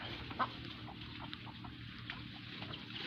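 Chickens near a cattle pen give scattered short clucks at an uneven rhythm, fairly close, over a quiet outdoor background.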